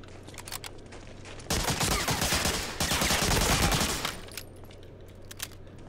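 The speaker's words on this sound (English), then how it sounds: "the MP40 is not a really loud gun, like in real life, but it's still loud." MP40 submachine gun fire in the video game Medal of Honor: Allied Assault: a sustained, loud burst of rapid automatic shots after a few scattered single cracks, then trailing off.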